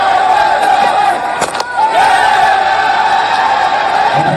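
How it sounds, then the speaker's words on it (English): A large cricket crowd in Nepal roars steadily, its noise building and swelling as the bowler runs in for the delivery. The crowd sounds loud and dense, with a brief sharp slam cutting through the din. "And Nepalese crowd, the volume's going up."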